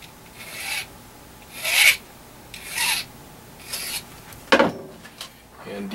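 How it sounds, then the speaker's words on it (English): The outside edge of a metal gamma tube for a 2 meter halo antenna is cut while held in vise jaws, with about six rhythmic rasping strokes, each a close, gritty scrape separated by short pauses. "Now I'm gonna cut the edge off the outside edge of this tube."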